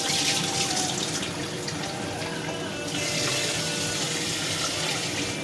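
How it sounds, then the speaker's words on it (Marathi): Soaked dal is rinsed under a running kitchen tap, the water rushing and splashing steadily into a vessel at close range with no talk over it. "पहिले धुवून काढूया ढवळं पाणी निघून जातं"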